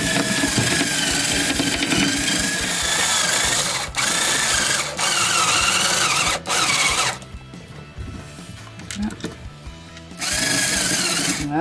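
Cordless power drill or driver running screws into furniture panels during assembly, long buzzing bursts with brief stops, then a quieter stretch of small clicks and handling before the motor whirs again.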